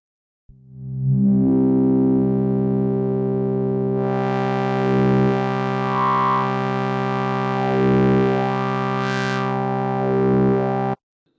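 A sustained Massive software synthesizer tone with a scream filter adding harsh distortion, holding one buzzing note for about ten seconds as the filter sweeps up into bright, snarling peaks and back down.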